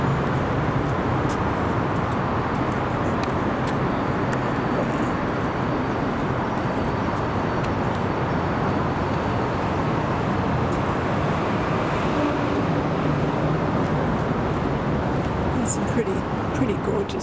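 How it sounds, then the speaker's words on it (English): Cars stream toward the Schuylkill Expressway near a Philadelphia riverside walk, making a constant broad roar of traffic with no breaks, while a voice may be talking over it. "All those cars there, they're heading towards the Schuylkill Expressway"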